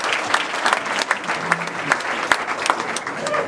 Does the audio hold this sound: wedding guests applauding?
yes